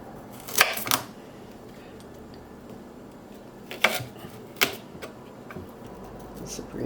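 Kitchen knife trimming rhubarb stalks for a pastry filling: a few sharp clicking cuts, one pair close together near the start and two more later, over a faint room background.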